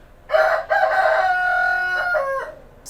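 A rooster of about two or three years old crows loudly and close by in two long bursts, with a short clucking call after them and no talk over it.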